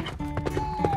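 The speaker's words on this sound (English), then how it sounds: "Oh no, the horse." Cartoon horse sounds in a frantic animated farm scene, with short hoof clatters and a high whinny-like tone rising over dense music and effects, lasting about a second.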